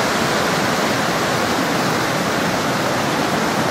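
Steady, loud rushing roar of Pryden Falls, a waterfall on the Zoar Trail in Newtown, Connecticut, heard close up as a continuous broadband wash of falling water with no voices.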